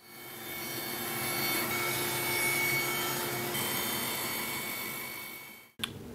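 Flush trim bit spun in a router cuts along a wood workpiece, a steady loud whining roar with shaving noise lasting about six seconds, then stopping abruptly with a short clack.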